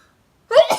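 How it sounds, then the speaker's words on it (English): A single sharp sneeze bursts out after a half-second of silence, close and loud, with a breathy tail. "I'm gonna sneeze."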